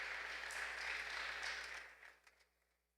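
Church congregation applauding the Lord after a sermon passage, a steady wash of moderate clapping that fades out over the final second, leaving a few last isolated claps.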